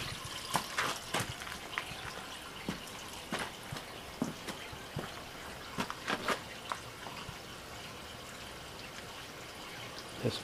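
Water quick-filling an electric heating system, heard as faint, irregular splashes and drips over a low steady rush, with no talk.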